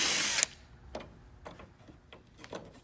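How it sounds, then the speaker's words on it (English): A 10mm socket on a power driver loosening a bolt on a third-gen Toyota Tacoma fender, a loud burst of whirring at first, then a series of separate ticks and clicks from the tool and bolt, close by; no talk. "Then you'll use 10mm socket up top"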